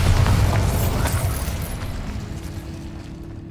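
The Bombarda explosion spell goes off in the video game Hogwarts Legacy, a loud, deep boom with crackling debris that rumbles and slowly fades over a few seconds, leaving a low hum.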